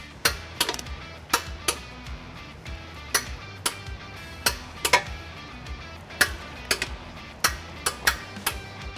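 Ratchet with a 13mm socket tightening trailer hitch hardware on a 2021-2025 Volkswagen ID.4, giving sharp metallic clicks in irregular bursts, close and clear over a low background hum.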